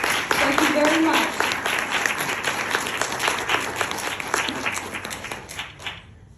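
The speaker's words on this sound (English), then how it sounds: "So a big round of applause for Margarita, please." An audience at a launch event applauds loudly for a guest, a dense burst of many clapping hands with a few whoops and a voice over it at the start, tapering off and fading out near the end.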